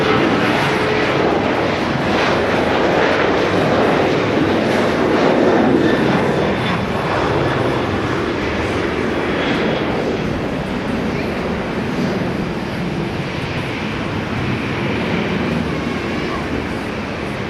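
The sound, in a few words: Air India airliner passing at Haneda Airport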